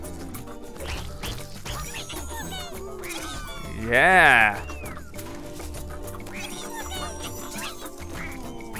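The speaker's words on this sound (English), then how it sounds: "This duck is happy." A cartoonish duck quacks in Rayman Legends, one bright, loud burst near the middle that rises above ongoing game music and effects while someone talks over the gameplay.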